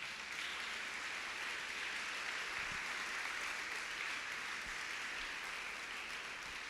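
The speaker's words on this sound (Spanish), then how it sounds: "Dale un aplauso a tu Señor." A church congregation applauds at a Sunday service, producing a steady, even wash of clapping that runs without letup and sounds somewhat distant, with no voice above it.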